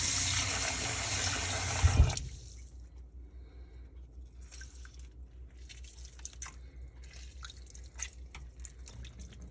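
Tap water pours loudly over chicken being washed for a couple of seconds, then cuts off, leaving quiet, scattered drips and small wet handling noises.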